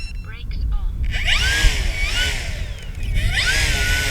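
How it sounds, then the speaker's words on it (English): Electric motor of an FMS Kingfisher RC plane whines at rising and falling pitches in short bursts as the throttle is worked, loud and close, with someone talking over it on a windy day. "I'm going to put motor back on."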